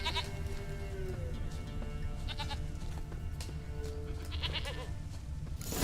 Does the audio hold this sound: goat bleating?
yes